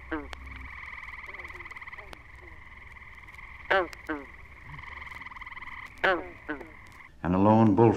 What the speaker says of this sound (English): Green frog chorus is now starting.